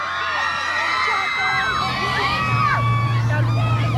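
Outdoor concert crowd at a seaside culture festival in Toucheng cheering and applauding for a singer, a dense, continuous roar with whoops and high shouts rising above it.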